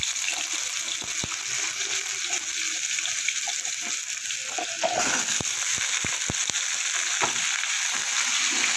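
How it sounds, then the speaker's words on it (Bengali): Cut potatoes dropped into hot oil in a frying pan for cooking kulekhara greens, a steady loud sizzle and hiss with a few sharp clacks and stirring knocks. "এবার দিয়ে দেবো কেটে রাখা আলু।"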